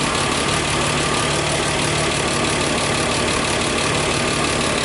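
A 1968 MGC engine idles steadily while its ignition timing is set, a loud, even, continuous mechanical hum with no change in pace and no voices.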